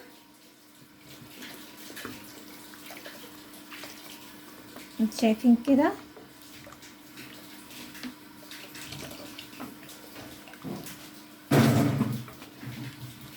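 Water poured from cups into a pot of lentil soup on the stove, with a short splashing pour midway and a louder gush near the end, heard under someone speaking.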